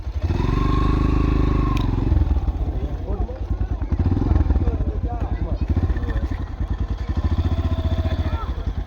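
A tractor engine at a tractor race in Thoothukudi district chugs loudly and close, a rapid steady thumping pulse that runs throughout, with voices talking over it.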